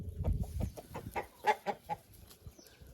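Free-ranging hens at a dacha cluck in a quick, uneven string of short notes, fairly close and clear, with no voices present.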